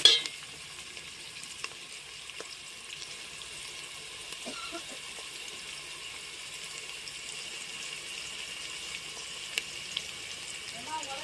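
Green chillies frying in a pan for chicken biryani, a faint, steady sizzle with occasional light clicks of stirring, quiet and close.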